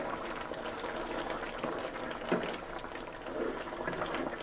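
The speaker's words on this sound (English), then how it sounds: "So I'm going to let it simmer for a couple minutes and let it thicken a little bit." Beef bourguignon simmers in a large pan, a continuous soft bubbling and popping at close range that holds steady throughout.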